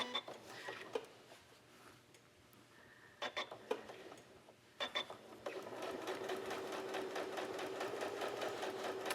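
Sewing machine stitching a raw edge appliqué quilt, short start-stop bursts of rapid mechanical clatter that settle into a steady running whir, close and fairly quiet.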